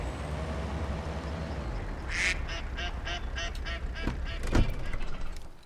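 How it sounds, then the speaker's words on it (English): Wild ducks in a hunting game pass overhead, giving a quick series of nasal quacks over a low outdoor ambience, with one louder, closer call near the end. "And this is wild ducks going by."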